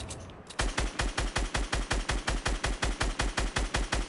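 Rapid automatic gunfire in a first-person shooter video game, a steady run of loud, evenly spaced shots after a brief quieter lead-in, with no talking.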